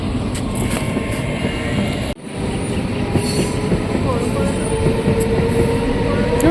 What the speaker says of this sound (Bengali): দেখো ওদিকে ট্রেন যাচ্ছে